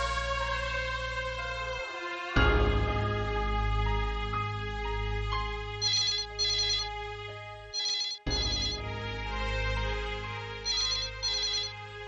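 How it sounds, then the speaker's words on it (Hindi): A telephone ringtone plays as a melodic electronic tune, loud and close, repeating its phrase across the whole stretch with one brief gap before it resumes. "हाँ लक्ष्मी का फोन है।"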